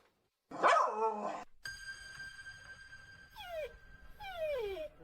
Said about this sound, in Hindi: तू इतना भौंक रहा है, आखिर क्या बात है?